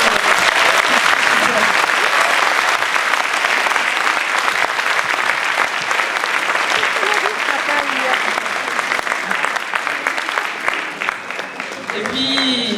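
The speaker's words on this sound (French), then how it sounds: "si vous pouviez un petit peu les booster en les applaudissant bien fort" A theatre audience applauds the actors with loud, sustained clapping that fills the room from start to finish, easing slightly toward the end.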